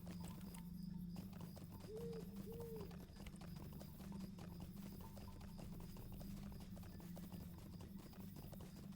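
Horse hooves clip-clop steadily in the fantasy online game The Lord of the Rings Online, quiet and even-paced, with faint bird coos and ambient game sounds around them.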